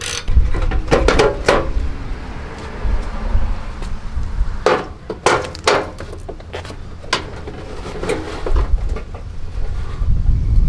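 A bolt being tightened on a Mazda Miata after a crash, with a ratchet's quick clicking bursts and metallic ticks, close and fairly loud, in irregular runs with short gaps.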